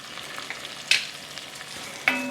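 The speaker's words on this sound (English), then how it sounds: "And we want to stir that around and get it all nice and toasted." Rinsed long grain rice and fideo pasta are stirred and toasted in a pot, giving a soft dry rustle and light sizzle with two sharper scrape-like clinks.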